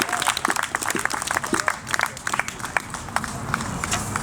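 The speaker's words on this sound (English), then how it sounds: "Give him a round of applause." A crowd at an outdoor immigrant-rights protest rally claps and cheers loudly, dense sharp claps running steadily throughout with some shouting mixed in, close and energetic, with no speech on top.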